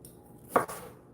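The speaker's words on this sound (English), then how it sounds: "so chopping this onion" A kitchen knife makes a single crisp chop through an onion on a cutting board while preparing a fall quinoa salad, close and clear with nothing else around it.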